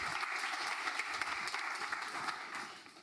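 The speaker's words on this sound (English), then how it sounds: "Let's give him a round of applause." A conference audience applauds a keynote speaker at a Web3 event with steady, dense clapping from many hands, held at a moderate distance and tapering slightly toward the end.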